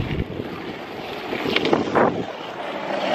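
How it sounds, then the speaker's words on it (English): Wind blows outdoors, roaring and buffeting against the microphone in a continuous loud rumble with brief gusty swells. "it's kind of windy"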